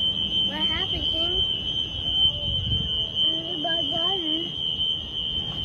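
A smoke alarm in a hotel room sounds a steady, piercing high-pitched tone that runs the whole time while several people talk and call out over it.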